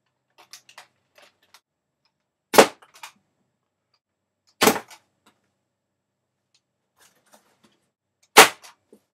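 A Buzz Bee Ultimate B System toy blaster fires three sharp, loud pops spaced about two seconds apart, with faint clicks and handling noise in the quiet gaps between shots.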